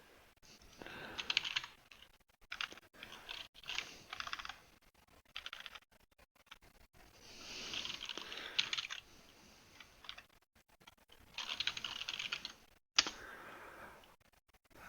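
Typing on a computer keyboard, bursts of quick, close clicking keystrokes separated by short pauses.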